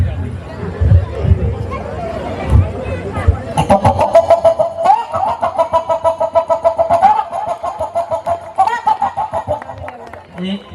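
A mimicry artist imitates a chicken on stage before an audience, with repeated clucking notes in a steady pulsing rhythm, loud and close, after a few seconds of low murmuring.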